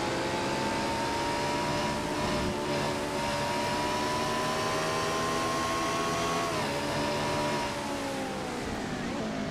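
Onboard race car engine from a sim racing game at Road America, a steady continuous drone with sustained harmonic whine that dips as the throttle is feathered through a turn, loud and close throughout.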